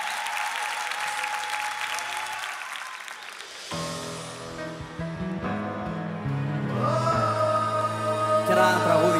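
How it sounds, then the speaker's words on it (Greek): Live concert audience applauding warmly, a steady crowd clapping that carries throughout while music with sustained tones enters partway and builds toward the end. "Το πιο θερμό χειροκρότημα"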